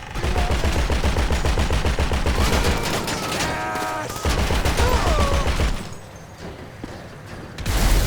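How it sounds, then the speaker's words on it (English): Gunfire in GTA 5 rattles out in loud, rapid automatic bursts, nearly continuous for several seconds with a brief metallic pause and a quieter tail before another burst. "Sure, someone shoots a gun then."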